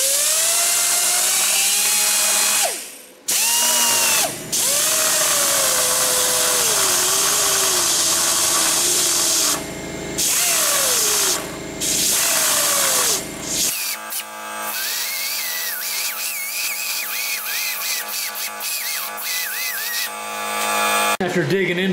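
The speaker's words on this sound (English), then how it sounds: "we want to grind that out with a carbide grinder, open that up, and then fill it back in" Carbide burr on a die grinder cutting into poor-quality cast aluminum before TIG repair, a loud high-pitched whine that swoops in pitch under load, broken by brief pauses and ending in a rougher, chattering stretch.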